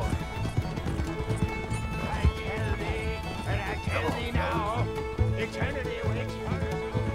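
Horse hooves clip-clopping in the Red Dead Redemption video game: a rapid rhythmic gallop with occasional neighs and snorts, set against game music and ambience. Someone talks over the hoofbeats.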